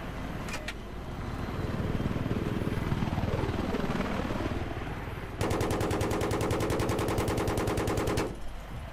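A helicopter gunner in Battlefield 3 on the Wake Island map: a steady rotor and engine drone, then a loud sustained burst of rapid machine gun fire lasting about three seconds before the rotor noise continues alone.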